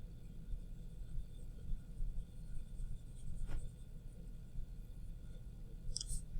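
A colored pencil shades steadily on paper, giving a soft continuous scratchy rub at low volume over a constant background hiss, with a brief click near the middle and another near the end.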